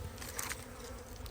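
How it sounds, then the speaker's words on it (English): Honey bees buzz around a hive in a continuous dense hum, close and steady, with no talk. "the whole purpose of these first 20 pictures is to capture the bees"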